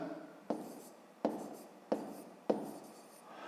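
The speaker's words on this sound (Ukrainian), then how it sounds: "Пишемо Олеся." A pen writing on paper, recorded close and quiet, with four distinct scratchy strokes at a steady, unhurried pace.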